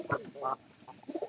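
A pair of newly bought pigeons kept by their breeder coos softly up close, in a few short throaty calls with brief gaps between them.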